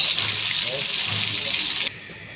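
Chicken pieces sizzling in hot oil in a pan in a village kitchen, a loud steady hiss that drops off sharply near the end, with faint voices in the background.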